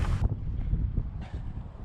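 Outdoor wind buffets the microphone in a low, rumbling roar with gusty fluctuations, loud and close, and no voices break through.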